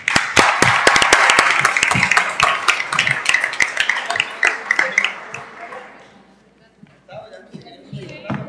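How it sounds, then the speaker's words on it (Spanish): A studio audience gives the panelists a burst of dense, loud applause that thins out after about five seconds into scattered claps, with a few voices speaking over the tail. "Un fuerte aplauso para los panelistas."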